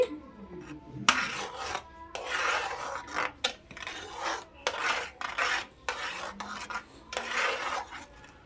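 A spoon stirs milk with cardamom powder for kulfi, made with Anganwadi milk, scraping against the pot in repeated rasping strokes. The strokes come close and moderately loud, separated by short pauses, with no speech.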